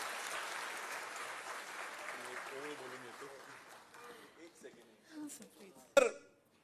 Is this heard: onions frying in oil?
no